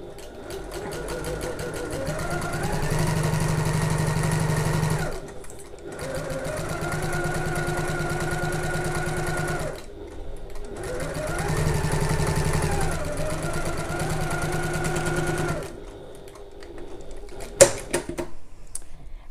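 A sewing machine stitches a messenger bag seam in three steady runs of about five seconds each, separated by short pauses, with the motor pitch rising and falling as it back stitches. A few faint clicks follow at the end.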